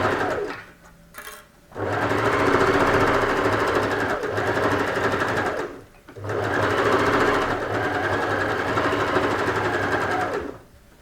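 Sewing machine stitching an in-seam pocket in African print cotton fabric, two long steady runs of fast close motor whirring and needle chatter, separated by brief pauses with small handling clicks.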